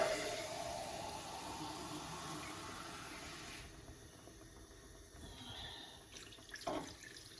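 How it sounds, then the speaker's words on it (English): Tap water running into a cooking pot for osso buco, a soft steady splashing hiss that thins and shifts midway and ends with a brief gurgle, fairly faint and close. "You fill it up with water."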